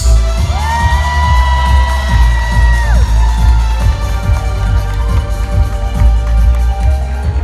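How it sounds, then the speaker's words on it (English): A large crowd at a Final Fantasy fan event cheers and whoops for community guests, loud and close, with a bright rising and falling tone sounding over the roar early on before the cheering carries on alone. "A huge round of applause for our community guests"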